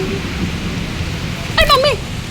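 Heavy rain pours in a steady broadband hiss with thunder rumbling low underneath, while a voice cuts in briefly near the end.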